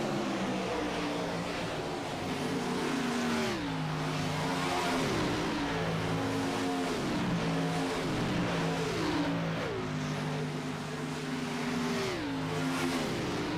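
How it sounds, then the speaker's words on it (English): A damaged race car at Daytona accelerates, its engine climbing through repeated rising revs with gear shifts, loud and continuous, alongside other cars droning on the track. "Sanchez down and away as he is trying to get that race car up to speed."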